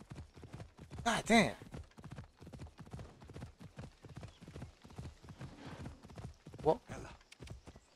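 A horse's hooves clip-clop in a quick, steady rhythm in Assassin's Creed Odyssey, with two loud whinnies along the way and someone talking over it.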